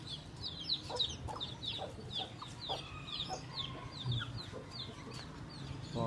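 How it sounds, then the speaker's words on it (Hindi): An aseel rooster clucks in short repeated bursts, fairly close, over steady farmyard background noise with other birds chirping faintly. "अभी आप लोगों के लिए नया मुर्गा लाया है वालिद ने"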